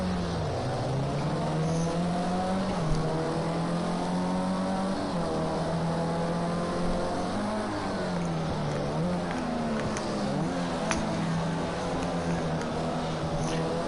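A Formula C race car starting its flying lap in a 2019 NORL round, its engine a steady loud whine with rising and falling pitch sweeps as it shifts and heads into a corner, continuous throughout.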